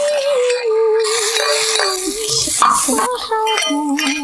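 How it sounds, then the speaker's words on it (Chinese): Shredded gourd is stir-fried in a pan, with a spatula clinking and scraping against the metal in quick bursts, loud and close, over a steady tonal background. "再炒一个瓜丝就可以了。"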